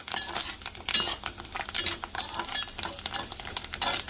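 Curry leaves dropped into hot oil for ginger rice, crackling and sizzling close up with bursts of spitting and a few stirring clinks, loud and busy with no talking.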